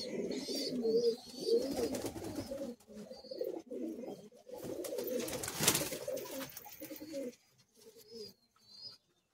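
Madrasi high flying pigeons coo steadily in a loft cage, soft repeated low calls overlapping close by, with occasional higher chirps and rustling between them.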